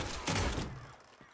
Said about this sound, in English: Shoot that door down.